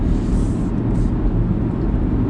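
An Audi A6 50 TDI diesel engine hums steadily with a deep, low rumble, close and constant with no breaks.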